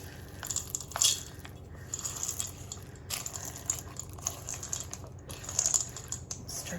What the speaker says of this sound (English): Stir those up, make sure they get in there.